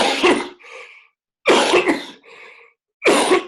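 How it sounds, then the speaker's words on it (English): Two sharp coughs, each followed by a short raspy breath, then a third cough begins; close and clear with pauses between. "your cough comes back"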